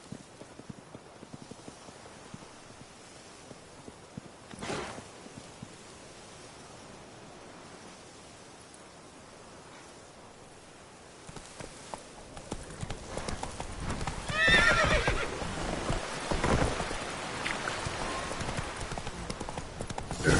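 Roach, a horse in the game The Witcher 3: Blood and Wine, galloping with steady hoof clip-clops under a constant wash of ambient noise, growing louder and busier toward the end with a brief neigh.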